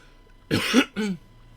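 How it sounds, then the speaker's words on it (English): Two quick coughs from a person nearby, the first harsher and longer, the second short, with quiet room tone around them. "having the odd little cough during these last few videos"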